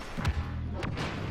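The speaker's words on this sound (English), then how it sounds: "Oh no, a blaster cannon." A blaster cannon firing in a video game, two or three sharp thudding blasts with short whooshing bursts, close and punchy against a low background hum.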